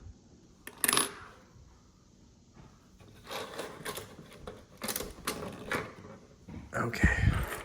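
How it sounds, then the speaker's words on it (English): Old world coins, including shillings and a quarter, scooped and dropped in several clattering metallic bursts, an opening clink followed by longer jingling runs and a final louder spill, fairly close. "Okay, and the last little scoop of coins."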